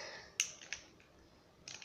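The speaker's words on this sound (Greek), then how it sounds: "Ακούσει το κλικ του χειριστήριου μου." Two crisp, close clicks of game controller buttons during FIFA 17 in quick succession, then a softer third click after a short pause, in a quiet room.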